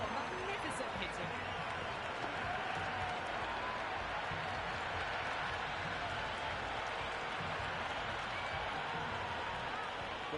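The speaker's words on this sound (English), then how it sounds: "the crowd have joined the party. It's pretty noisy at the ground" A cricket crowd at the ground during an Afghanistan vs South Africa T20 World Cup match cheers and applauds, a dense, sustained roar of noise with a steady level, heard at a distance throughout.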